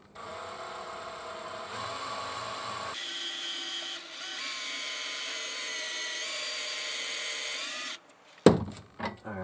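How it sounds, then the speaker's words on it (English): A power drill bores a hole through a coin clamped in a vise, a steady high whine that shifts pitch partway through, then stops with a few sharp clanks at the end, with no talking. "I'm going to reverse it so it's this way around in the vise and drill"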